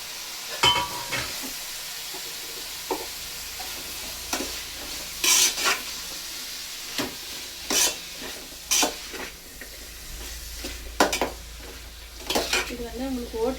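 Carrot, cabbage, peas, kohlrabi and beans stir-fried in a pan, with repeated sharp scrapes and clinks of a metal spoon against the vessel over a steady low sizzle, close and fairly loud, no talking.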